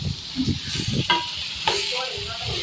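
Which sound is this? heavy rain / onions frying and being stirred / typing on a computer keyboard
onions frying and being stirred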